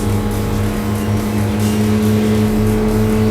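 A Honda N360 engine drones loud and close as the car accelerates in fifth gear around a racetrack, a steady buzzing tone that holds throughout.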